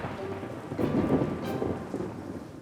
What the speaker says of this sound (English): Number 4, fear of thunder and lightning.